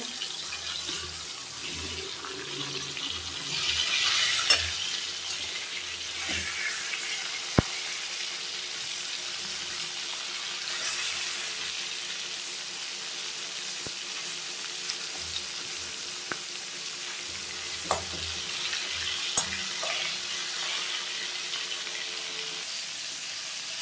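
Boal fish pieces frying in a pan, a steady soft sizzle running throughout with occasional faint clinks and splashy water-like noises, no talking.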